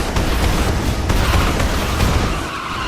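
The 1960s Batmobile in the Lego Batman 3 video game roars and skids, a continuous loud rumbling engine and tire-scrub wash with brief crashing bursts, dense and close.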